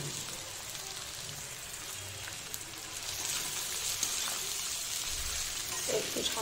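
Soaked flattened rice (chira) frying in a pan for chira pulao, a quiet steady sizzle that swells a little louder partway through, with no one speaking.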